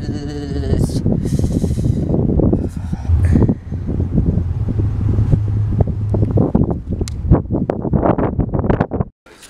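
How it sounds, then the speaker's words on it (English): Strong, cold wind buffets an outdoor microphone in loud, gusty roars and rumbles, with rustling bursts and a brief lull near the end. "it was super freaking windy and it was cold"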